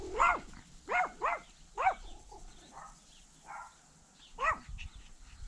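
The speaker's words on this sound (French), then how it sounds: "C'est un chien?" A dog barks repeatedly from a moderate distance, several sharp barks in an uneven series with short pauses between them.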